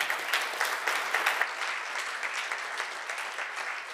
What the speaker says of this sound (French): Vous pouvez encore applaudir cette très belle présentation.